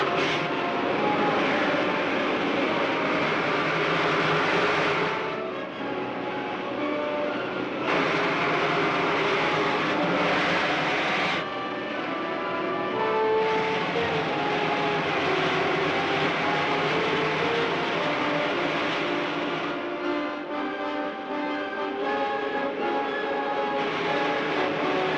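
Rocket ship main jets fire with a loud, sustained roaring rush that shifts in level and tone over about twenty-five seconds, with a faint tonal hum running through it.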